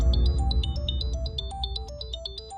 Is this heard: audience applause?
no